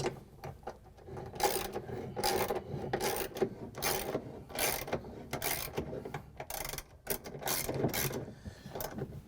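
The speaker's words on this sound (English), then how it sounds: "we're going to grab the ratchet with the extension and a 1/2 inch socket" A ratchet with an extension and a 1/2-inch socket loosens the motor bolts on a GE washing machine, giving steady rapid clicking strokes in quick bursts, close but fairly quiet, with no speech.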